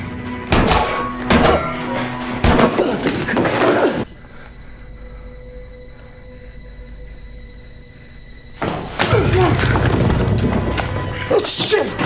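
Gunshots in the 2015 movie Green Room, heavy booming impacts in two loud stretches separated by a quiet, tense lull, with voices reacting over the action.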